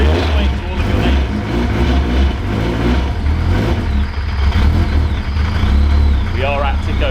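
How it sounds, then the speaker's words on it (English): An Epic 620R car engine idling while it warms up, a loud continuous low rumble with uneven throbbing pulses, with people talking over it throughout. "This car really is very noisy and you are going to wake up your neighbours"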